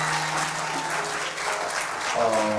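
A church audience at a Bible study bursts into sustained, even applause for a pastor's newly released first book, dense clapping filling the room at a steady, fairly loud level.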